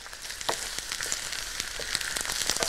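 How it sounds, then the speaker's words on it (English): Chopped carrots and celery frying in a pan give a steady close sizzle with scattered small crackles and pops, a continuous hiss that builds slightly toward the end, with no talking. "the sizzling now"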